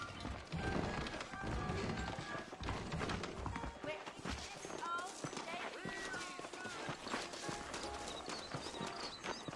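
Horses setting off at the trail in the Western video game Red Dead Redemption, with a busy mix of hoof clip-clops, movement and background score while voices talk over it.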